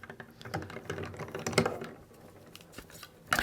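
A hand-cranked die cutting machine rolls two cutting plates through, giving a steady run of close mechanical clicks and ratcheting ticks with a louder clack near the end.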